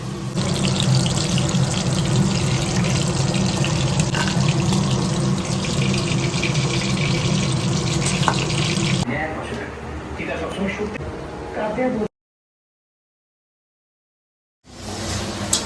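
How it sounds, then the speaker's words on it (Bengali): Chicken pakoras drop one by one into hot oil, giving a loud, steady hiss and sizzle that eases, cuts out briefly, then returns, while someone talks over the frying. "চলো এবার পকোড়াগুলো একে একে আমি তেলের মধ্যে দিই।"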